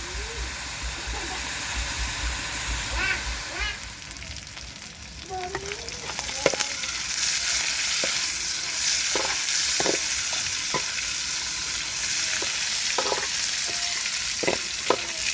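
Crickets deep-frying in hot oil, a loud, dense, unbroken sizzle like rushing water, with scattered clicks and scrapes of stirring and a few brief voices in the background.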